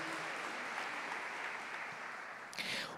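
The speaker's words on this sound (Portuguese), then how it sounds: "Isso, pode aplaudir a palavra de Deus" A church audience claps steadily at a Catholic couples' retreat, a dense, even wash of applause from many hands that swells slightly near the end, with no talking over it.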